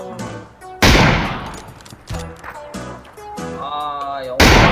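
Assault rifle fire in the battle royale video game PUBG comes in several loud, sharp bursts spread across the moment, mixed with excited players talking over it.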